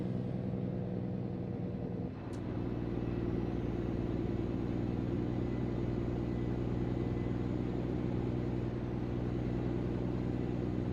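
Mack Superliner truck engine in American Truck Simulator heard from inside the cab, a steady low droning rumble that holds constant, with a brief dip and a faint click early on.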